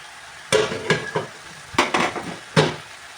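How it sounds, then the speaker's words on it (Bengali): Spinach goes into a pan of frying potato and cauliflower and gets stirred, bringing four or five close, brisk bursts of scraping and sizzling with short pauses between them and no talk. "আলু ফুলকপি কষানো হয়ে গেছে এবার পালং শাক দিয়ে দেবো"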